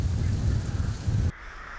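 A huge flock of rooks, tens of thousands strong, caws near a bamboo grove as it scatters and regathers. The harsh overlapping calls form a dense, loud, continuous roar that cuts off abruptly.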